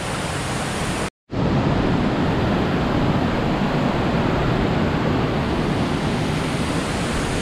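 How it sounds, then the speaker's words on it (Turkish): Water pours down from above in Sapadere Canyon near Alanya, Antalya, a loud, steady, broad rush with a brief dropout near the start. "Yukarıdan akan su buradan daha net belli."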